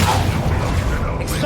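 The Incendio fire spell fires in Hogwarts Legacy with a loud, deep, booming whoosh that fills the whole brief moment, and a voice shouts over it.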